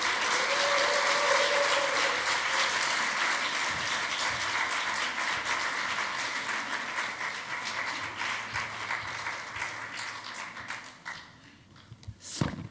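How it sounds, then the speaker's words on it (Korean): A church congregation at a Friday evening revival service applauds to welcome the pastor, loud continuous clapping that gradually thins into distinct individual claps before dying away at the end. "박수로 환영해 주시죠."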